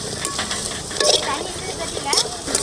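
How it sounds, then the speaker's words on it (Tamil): Carrots and green peas fry in ghee for rava kitchadi, giving a close, crackling sizzle broken by several scraping stirs of a spoon against the pan. "நல்லா நெய்யிலேயே வணங்க வேணும்."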